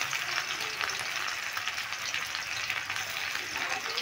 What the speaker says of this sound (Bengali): দেখো পেঁয়াজটা আমি একটু ভেজে নিয়েছি।